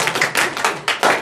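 A few people in a math classroom give scattered, sharp handclaps, roughly half a dozen uneven claps over a second or so, close and fairly loud.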